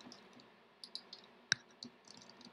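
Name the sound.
typing a command on a computer keyboard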